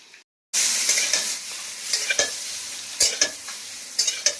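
Potatoes and cauliflower fry with a steady broadband sizzle in a pan, broken by several sharp scraping stirs near the end, close and fairly loud with no talk.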